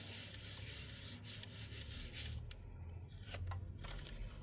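Rubbing on a transparent stamp block inked with Kaleidacolor blending inks gives a soft, close scratchy friction that repeats in short strokes with brief pauses, heard alone.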